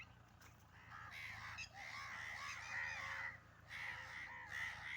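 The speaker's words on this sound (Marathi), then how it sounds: "किती कावळे आलेली. अरे बापरे, लईच कावळे आले" A large flock of crows in an open farm field caws in repeated harsh bursts at middle distance, many birds overlapping against a quiet outdoor background.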